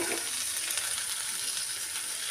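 Whole spices such as bay leaf, dried chilli, cinnamon, cloves and cardamom sizzle in hot oil in a pan with a whole onion, ginger and garlic, a steady close, bright crackling hiss throughout.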